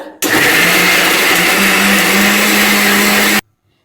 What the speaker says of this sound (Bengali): আমি কিন্তু মিক্সিতে এটা পেস্ট করে নিচ্ছি